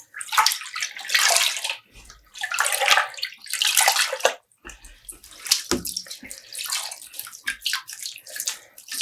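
Dyed tweed yarn is rinsed and sloshed in running water, with splashy bursts of pouring and swishing that start and stop irregularly, close and fairly loud, with brief quiet gaps between.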